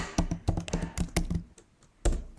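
A computer keyboard clicks in a quick burst of keystrokes, then a short pause and a couple of final taps, close up with no talking.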